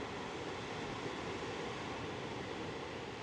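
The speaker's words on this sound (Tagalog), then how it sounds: "naririnig nyo lang yung hangin. Tapos yung alon." Wind and surf rolling in at Sakurai Futamigaura beach, a steady, even wash of broadband noise with no breaks and no voices.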